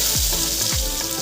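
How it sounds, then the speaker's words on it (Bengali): Eggs frying in hot oil seasoned with salt and turmeric, a steady close crackling sizzle throughout with a few soft low thumps from the pan. "এখন ডিমগুলোকে ফ্রাই করবো।"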